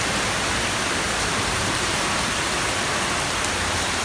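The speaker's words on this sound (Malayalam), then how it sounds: "നല്ല മഴ, നല്ല ഇടിവെട്ടുണ്ട്," Steady, dense rain hiss fills the scene, a constant wash of falling water with no voices and no breaks.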